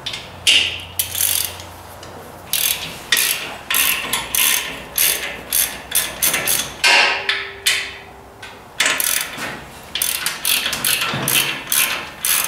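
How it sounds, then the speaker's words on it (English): A 5/8 socket ratchet removes the seat from a Ford 800 tractor, giving repeated close, sharp clicking strokes in uneven bursts. "We gotta get a 5/8 socket and start taking some things apart here now."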